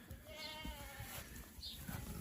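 Sheep bleat on a cold-morning homestead farm, several overlapping wavering calls close by over a constant outdoor background hiss, with no talking.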